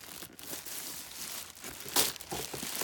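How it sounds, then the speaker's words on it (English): Crinkly plastic wrapping being pulled and torn off camping gear for a Coleman stove carry case, close and fairly quiet, with uneven rustling bursts and a louder crackle near the end. "I'm trying to unwrap these from..."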